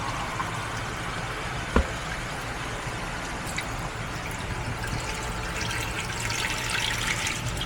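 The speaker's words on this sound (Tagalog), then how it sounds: "Maglagay ka ng isang tubig" Water runs and trickles steadily into a cooking pot as chicken kinamatisan is prepared in a home kitchen, a continuous close splashing pour with a brief sharp clink near the start and no talking.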